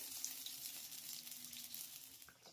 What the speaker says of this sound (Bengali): এইভাবে আমি বাকি সবগুলো পিঠা ভেজে নেবো